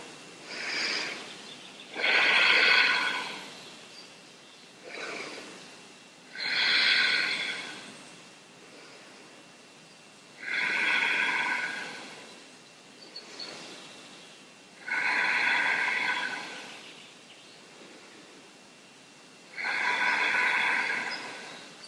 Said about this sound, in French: on compte 5 respirations.